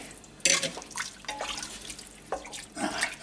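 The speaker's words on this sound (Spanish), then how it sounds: "Le voy a poner un poquito de agua para luego también ser más cómodo para triturarlo." Water splashing and dripping as a little is added to a pot of lentil soup, with brief liquid bursts and trickles, fairly close and moderately loud, no talking.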